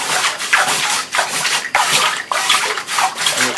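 Water poured into a container at a fire poker blacksmithing class, a series of loud splashing, rushing pours with brief breaks between them, close by.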